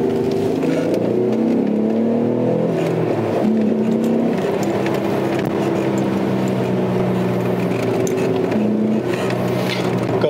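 Alfa Romeo GT with the 3.2 V6 Busso engine accelerating on a winding road, a loud steady engine note with rising and stepping harmonics through gear changes, heard from inside the car with no talking.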